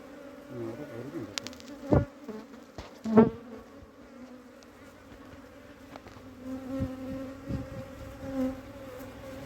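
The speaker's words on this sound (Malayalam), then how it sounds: "എൻ്റെ ദേഹത്തൊക്കെ ഇഷ്ടം പോലെ തേനീച്ച കിടന്ന പറക്കമാണ്" Close, steady buzzing of honeybees swarming around and over a person as they are collected from the ground into a hive, with a couple of brief louder bursts early on and no talking.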